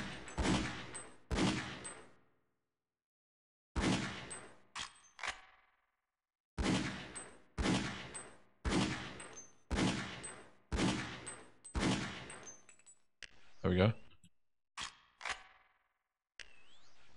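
Gunfire from the video game Half-Life: Opposing Force, loud sharp shots in short bursts and single cracks separated by brief pauses, with a few metallic clinks and an odd whooshing effect near the end.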